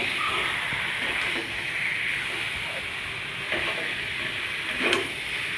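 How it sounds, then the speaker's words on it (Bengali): Chicken sautés with potatoes in a hot pan as a moderate, steady sizzle, with occasional soft scrapes and a slightly louder stir near the end. "চিকেনটা দিলাম, এটাকেও এবার ভালোভাবে কষাতে হবে।"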